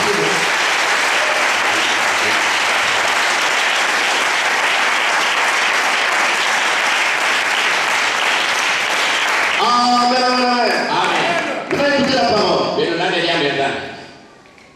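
A church congregation claps for the Lord in loud, sustained applause that fills the room for several seconds, then a voice speaks over the tapering claps before everything cuts off.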